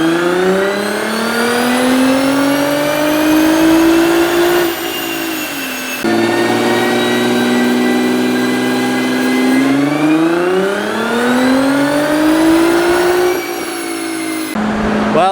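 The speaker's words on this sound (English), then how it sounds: "we'll just see exactly how much this stock GTR puts down in the dyno" Stock Nissan GT-R engine on a dyno, revving hard in long rising pulls that climb in pitch, drop off, then build again, loud and close with no talk.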